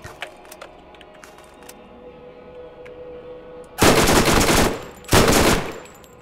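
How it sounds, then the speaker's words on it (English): Two loud close bursts of SMG fire in the Borderlands video game, each lasting about a second, following a stretch of quiet ambient game sound. "Just a plain old good SMG."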